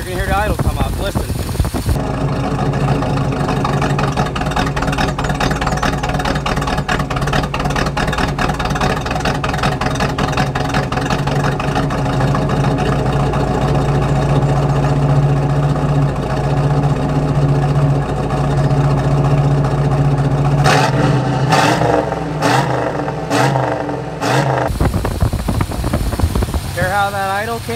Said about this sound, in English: We twist it back, you're going to hear the idle come up.